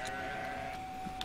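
A sheep bleating in the video game Grow Home, a brief nasal, tonal call held steady across the moment, moderately loud, with a couple of small clicks near the end.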